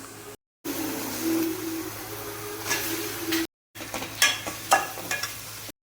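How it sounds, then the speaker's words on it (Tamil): Prawns sautéing in a pan with onion, tomato and ginger-garlic paste give a steady close sizzle, broken by scraping stirs of a spoon against the pan. "இப்போ இறாலோடு சேர்த்து நல்லா வதக்கிட்டு"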